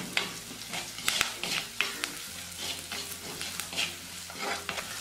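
Curry leaves stirred into a sizzling Kerala fish curry masala in a pan, with a spoon scraping and clicking in an irregular rhythm over a steady close frying hiss.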